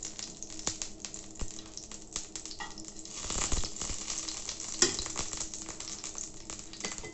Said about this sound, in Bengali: আমার ঘিটা যখন মেল্ট হয়ে যাবে